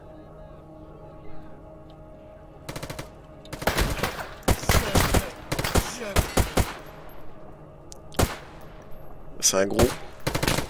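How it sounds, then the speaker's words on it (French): Gunfire in the video game S.T.A.L.K.E.R. GAMMA: loud, sharp shots come in irregular bursts and single cracks over a steady background hum, and someone speaks briefly between them. "Me gêne pas, je vais faire un tir."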